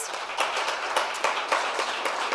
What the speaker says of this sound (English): If you could give them a round of applause, please.